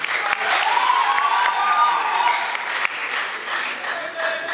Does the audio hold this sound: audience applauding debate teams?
yes